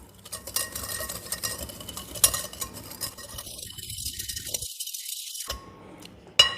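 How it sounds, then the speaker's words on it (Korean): A whisk rattles steadily against a bowl while creaming softened butter and sugar for mocha bread, a fast continuous scraping patter that drops out briefly near the end before one last clink. "휘스크로 버터와 설탕을 섞어주겠습니다."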